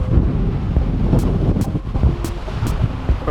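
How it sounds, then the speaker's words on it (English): Strong gale-force wind roars down Martin Place in Sydney, a loud, continuous rumbling buffet across the microphone with gusty surges throughout, no voices. "so you can get an idea of just how windy it is absolutely blowing a gale down Martin Place."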